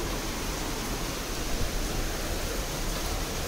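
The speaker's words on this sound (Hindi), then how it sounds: "बारिश देखो, बारिश का तो अलग ही।" Heavy rain pours steadily during the monsoon, a dense, even hiss close by with no pauses, running alone without any talk.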